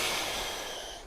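A forceful exhale through the nose during Uddiyana Bandha yoga breathing, one sharp close breath that tapers off over about a second, without speech.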